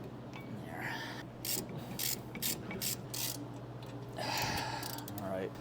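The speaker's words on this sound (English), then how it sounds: "That's your torque wrench right there." Torque wrench tightening the wheel nuts on a BMW after a brake fix, a run of sharp ratcheting clicks in short bursts over a low engine-like hum, with brief rustling movements between.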